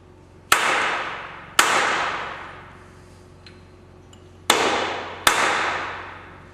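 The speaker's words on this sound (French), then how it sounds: "à l'aide d'un marteau impact diffus, bien asseoir la pièce contre les cales parallèles" A dead blow hammer seats a workpiece against parallels in a milling vise: four sharp, separate strikes, each ringing out and fading slowly in a reverberant shop.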